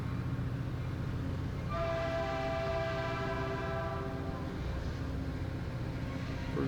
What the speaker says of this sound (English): Right now the diesel train slowly creeps away